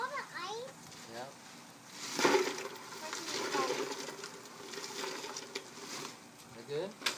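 Ice dropped into a bucket of water for an ice bucket challenge, with a sharp splashing clatter midway and lighter sloshing around it while children chatter throughout.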